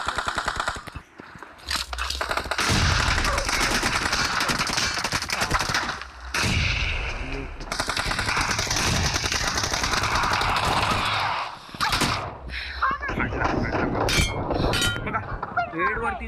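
Rapid bursts of gunfire from a shotgun in the mobile shooter BGMI ring out almost continuously, loud and close, with sharp clanging impacts between volleys and only brief pauses.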